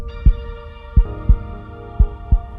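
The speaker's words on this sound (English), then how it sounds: "The event officially begins with the sound of a heartbeat playing throughout the school." Heartbeat sound played over school loudspeakers: loud, deep thumps coming in pairs and single beats over a sustained electronic hum, with no voices.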